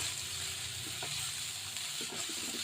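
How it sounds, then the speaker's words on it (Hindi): Vegetables sautéing in a pan for cauliflower bhujia give a soft, steady sizzle at low level, punctuated by a few light clicks and scrapes of stirring. "हम 1 मिनट के लिए वेजिटेबल्स को अच्छे से भून ले रहे हैं।"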